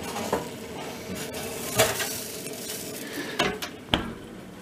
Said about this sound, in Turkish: Çok dikkatli bir şekilde fırına koyuyoruz.